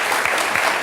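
Studio audience applause after a live musical performance on a French talk show, a brief, steady burst of dense clapping heard up close.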